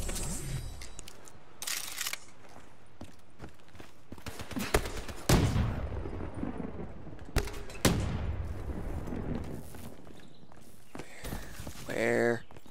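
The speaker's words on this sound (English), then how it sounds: "Oh crap, somebody's shooting." Gunfire in the multiplayer shooter Black Ops 3, sharp scattered shots and short bursts cracking across a busy battlefield, with voices talking in between.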